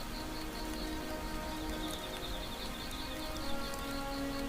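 Heavy rain pouring down steadily, a dense, even wash of drumming drops that fills the whole scene at constant loudness with no voices.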